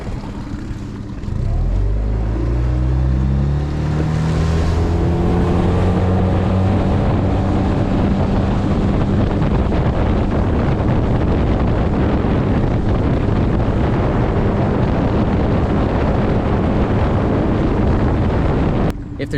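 An outboard motorboat engine, likely on a Tracker Pro Guide V16 or Carolina Skiff J15, revs up and runs steadily on a canal with rising harmonic pitch and heavy wind buffeting on the microphone.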